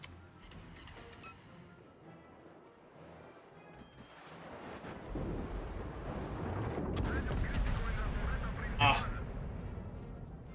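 An enemy cruiser fires naval artillery in World of Warships, sending deep booming salvos that build in loudness, with a sharp blast near the end and a voice talking over the battle.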